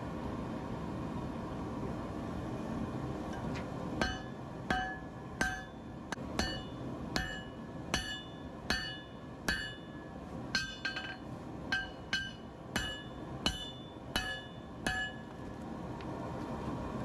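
Hammer forging a Damascus or rebar knife blade, a long run of regular ringing metallic strikes in a steady rhythm, close and bright over a constant roar from the forge fire.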